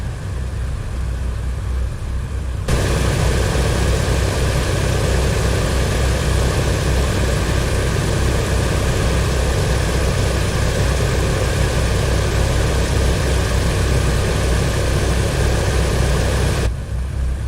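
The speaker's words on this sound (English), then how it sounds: "So they're all the engines are running now." Propeller airliner engines running at steady power before taxi for a flight from Dnipro to Odesa, a loud continuous droning hum with a constant tone that starts abruptly after a quieter stretch and holds evenly.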